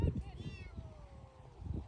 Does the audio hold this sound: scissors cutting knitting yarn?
no